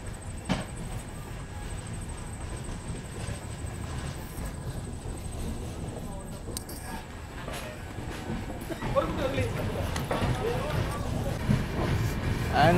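The Rayalaseema Express rolls on after leaving Ubbulavaripalli station, a continuous rumble of wheels and carriages from inside the coach that grows louder near the end.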